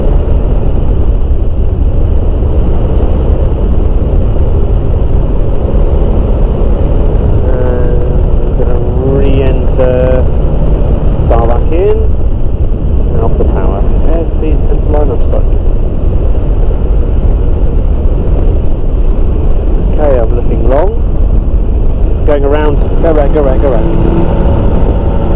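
A flexwing microlight aircraft's engine drones loudly and steadily through the landing approach, with the pilot talking over it intermittently.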